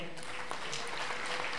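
Faint, steady applause from a lecture-series audience, a soft continuous patter of clapping throughout.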